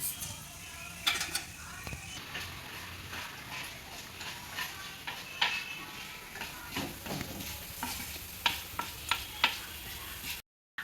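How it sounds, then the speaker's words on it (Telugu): Chana dal, urad dal and cumin seeds sizzle steadily in oil in a pan with occasional stirring scrapes and small crackles, close up, no voices. "కొద్దిగా శనగపప్పు కొద్దిగా జీలకర్ర వేసి వేయించుకోవాలి"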